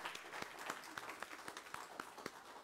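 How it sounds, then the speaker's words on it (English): A church congregation at Sunday worship claps in a round of applause, sparse distinct hand claps on top of a light crowd wash, fairly faint and a little distant. "Y'all give them a round of applause."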